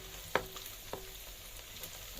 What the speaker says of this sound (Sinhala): හැන්දෙන් වඩේ බදින සීන් එක